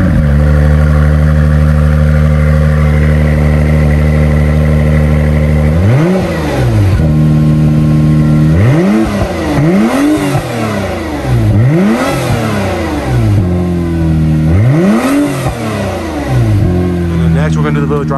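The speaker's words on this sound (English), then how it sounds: "All right, so this is the clip of the exhaust," Acura NSX with its stock exhaust, idling with a deep, steady rumble before a series of sharp revs climb and fall back, loud and close, repeated several times in quick succession.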